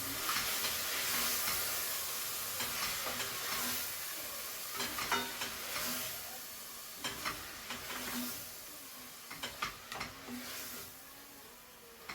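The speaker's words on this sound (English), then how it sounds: "Stir everything to combine nicely" Pureed tomatoes stirred into pork cooking in a pan; a steady, close sizzle and hiss with recurring spoon scrapes and clinks that grow sharper toward the end, without any talking.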